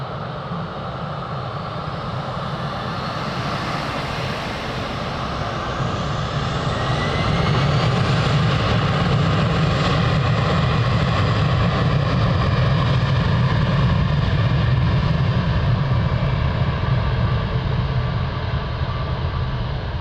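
An airliner takes off at Lisbon Airport, its jet engines building into a loud, sustained roar that swells partway through and holds steady to the end.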